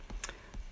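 A few soft, quick keystrokes are tapped on a computer keyboard while entering an R command, faint and close with no talking.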